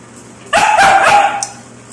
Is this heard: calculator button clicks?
no